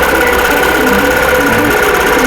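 An embroidery machine sews out a row of quilt blocks with a loud, steady mechanical hum and rapid needle chatter, continuous and close, without pauses.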